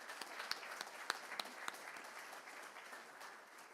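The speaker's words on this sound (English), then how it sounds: "So let's give her a round of applause." An audience at a supply chain summit applauds, a few sharper individual claps standing out early over a broad wash of clapping that gradually thins and fades toward the end.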